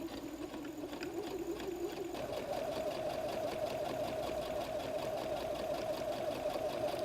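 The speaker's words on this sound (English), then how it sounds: "I'm just going to sew along the top of pocket B" A sewing machine runs steadily, stitching across the top of a messenger bag pocket, with a brief change in motor pitch near the start before a continuous, even whir carries on alone, close and fairly loud.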